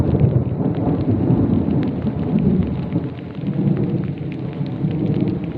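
Steady heavy rain roars throughout, with deep rumbling thunder rolling beneath it, loud and continuous, no voices.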